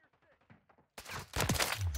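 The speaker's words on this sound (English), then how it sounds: "that headshot sound so satisfying" Rapid game gunfire from Modern Warfare 3 bursts in loud and close after a quiet stretch of soft voice-like sound, with dense overlapping shots filling the second half.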